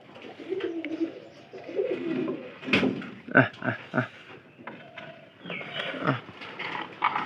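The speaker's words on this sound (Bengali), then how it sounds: "এই কবুতরটা আমি একটু দেখানোর চেষ্টা করবো" A weak, ailing pigeon that has stopped eating gives soft, low coos in short bursts, mixed with close handling thumps and rustles.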